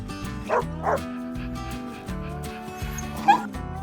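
A dog whines and yips in short, high whimpers, a few soft cries in sequence against a steady humming background.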